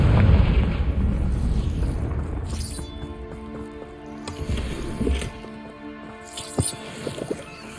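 A Confringo fire spell blast in the Hogwarts Legacy video game: a loud low burst opening the clip, then rumbling debris and scattered crackling impacts with smaller pops later.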